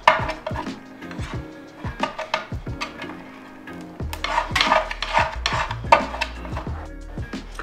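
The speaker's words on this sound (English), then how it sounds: "I'm gonna mix just a little bit of gray with a fair amount of white over here." Palette knife mixing gray and white oil paint on a palette: a sequence of close, soft scraping and smearing strokes in an uneven rhythm, with no talk.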